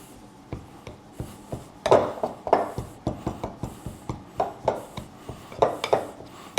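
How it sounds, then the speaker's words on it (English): A pastry dough cutter chops cold butter into flour in a bowl for Southern buttermilk biscuits, giving close, rhythmic soft thuds and scrapes, roughly a dozen strokes at an uneven pace, with no talk. "that's when I take my dough cutter. I'll just go in here and cut that butter up."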